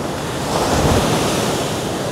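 Strong surf crashing on the shore at Botolan beach in Zambales, a loud steady wash of rough waves swelling slightly midway, with wind buffeting the microphone and no voices.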